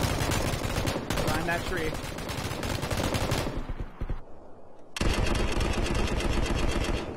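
Rapid automatic gunfire bursts from a PUBG match, loud and dense with a short lull before firing resumes, mixed with someone speaking over the shots.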